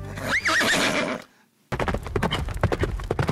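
A horse in the video game Trove lets out a loud, wavering whinny, then after a brief silence breaks into quick, rhythmic galloping hoofbeats.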